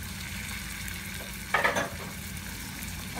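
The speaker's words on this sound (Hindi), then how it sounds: "और इसको हाई फ्लेम पे ही भूनना है।" Goat spleen frying on a high flame, an even close sizzle with a brief louder burst of crackling and stirring midway, no voices.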